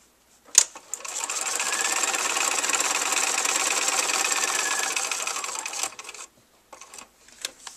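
A sewing machine stitches a paper-pieced quilt block in one steady run of rapid, even mechanical chatter lasting about five seconds, with a click before it starts and soft handling knocks after it stops.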